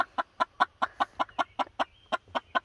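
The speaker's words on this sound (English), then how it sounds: "Got a rooster. Four females. They're all silkies." Silkie chickens, including a frizzle and a rooster among four hens, all molting, cluck in a steady run of about a dozen close, even-spaced calls.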